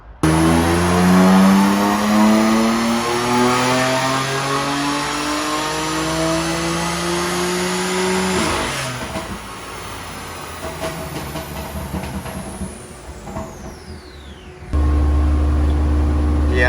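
BMW M4 Competition on a dyno, its engine revving hard in one long rising pull with climbing harmonics, then dropping off abruptly and settling back to a loud steady drone near the end.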